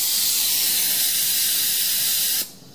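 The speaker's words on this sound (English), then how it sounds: "that is the pressure relief valve" Steam hisses steadily and loudly from the pressure relief valve on a homemade boiler feeding a small homemade steam engine, then cuts off abruptly near the end.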